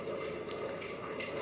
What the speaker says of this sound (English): You just add water 400 ml